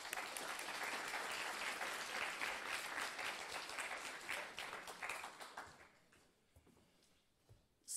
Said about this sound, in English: So how about another great applause?